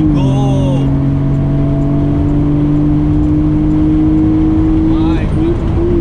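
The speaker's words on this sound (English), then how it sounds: "The car is just really loud." A Nissan Skyline R32 GT-R engine holds a loud, steady high drone throughout, with the pitch rising sharply near the end as it accelerates, and a brief whine at the start.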